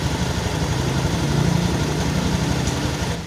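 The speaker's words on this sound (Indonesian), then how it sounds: "Teman-teman bisa dengar ya suara yang mesin standar tuh seperti ini" A Honda Beat scooter with a stock engine idles close by, a steady, loud, even putter with no revving.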